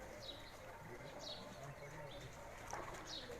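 Breeder pigeons on a rooftop give soft, low cooing calls with a few brief chirps, fairly faint and distant against steady outdoor background noise.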